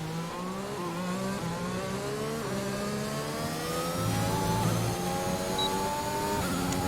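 Simulated Formula 1 car engine from the F1 2021 racing game, running a lap at the Bahrain Grand Prix on soft tyres: a loud, continuous high-revving whine climbing through gear shifts with brief dips, no talk.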